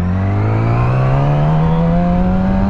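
A motorcycle engine revving steadily upward as it pulls away from a stop in first gear, loud and close with a rising droning pitch, no talk.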